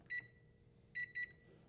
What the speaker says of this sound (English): you're gonna pop this in your microwave, and you're gonna cook this